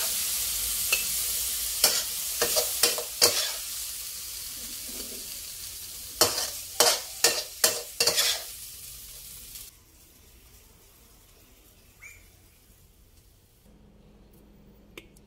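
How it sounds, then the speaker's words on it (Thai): Long beans and minced pork stir-fried in a pan, with sharp clattering stirring strokes in quick bursts over a soft sizzle, then a quieter stretch near the end. No one speaks. "ผัดแป๊บเดียวค่ะ"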